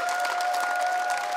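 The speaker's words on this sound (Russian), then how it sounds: "Ваши аплодисменты." Audience applause following a dance performance on a televised talent show stage, a steady dense wash of clapping from a crowd, continuous and fairly even throughout with a faint sustained tone underneath.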